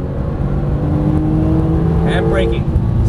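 A Porsche 991 Turbo accelerates at full throttle on a Las Vegas race track, its engine a loud, steady roar heard from inside the car, with a brief rising whine near the end.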